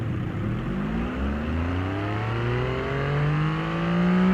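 Custom engine sound of a car in the BeamNG driving game, heard from the interior view, revving steadily upward with rising harmonic tones over about four seconds, fairly loud and alone.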